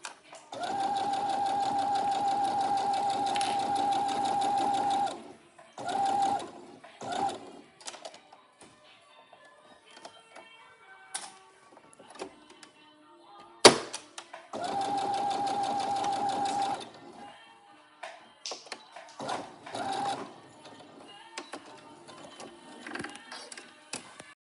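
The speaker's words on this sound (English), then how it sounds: "I'm going to sew it, press it, and everything together." A sewing machine stitches Velcro onto a fabric coffee cup sweater in two steady runs of several seconds each, with short stop-start bursts, fabric handling and quiet pauses between.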